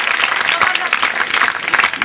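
Audience clapping at a Hindi poetry recital (kavi sammelan), bursts of applause mixed with loud crowd noise and some voices over about two seconds.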